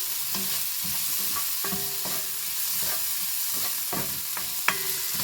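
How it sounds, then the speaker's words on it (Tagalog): Chicken breast samosa filling seasoned with coriander powder and pepper is stirred in a pan, rhythmic spoon scrapes repeating over a soft steady sizzle, close and clear, with no talking. "Haluin natin at ready na yung ating palaman sa samusa"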